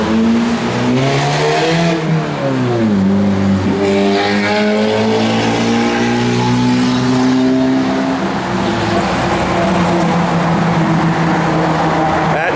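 A loud, deep stroker engine in a 1982 Chevrolet K10 4x4 truck revs up and settles into a throaty rumble through Flowmaster 2.5-inch dual exhaust, pitch rising and falling, close by and continuous.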